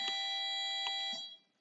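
A school classroom bell gives a few bright, ringing electronic chimes that hold for about a second and then fade out. It sounds fairly close and plays alone, with no talking.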